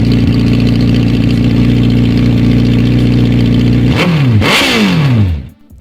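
A Suzuki Hayabusa 1340cc liquid-cooled inline-four DOHC superbike idles loudly and steadily up close, then blips the throttle in two quick rising revs before cutting off abruptly.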